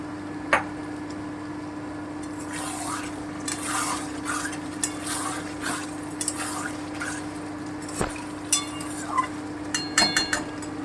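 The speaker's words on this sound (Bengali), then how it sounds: "এবারে আমি চিকেনটা দিয়ে দিচ্ছি" Chicken goes into frying spice masala for a desi chicken darbari and is stirred, giving intermittent scraping clicks and light taps against the pan over a steady low hum.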